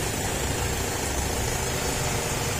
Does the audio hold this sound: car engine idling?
yes